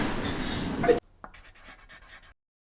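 A pen scratches across paper in a dense stretch of close writing, then shorter, fainter strokes follow after a brief pause before falling silent.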